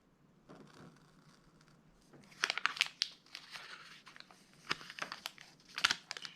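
Soft crinkling and tearing of thin Tomoe River paper as a sticker is peeled off, with quiet scratchy bursts and a few sharper rips close by, no talking.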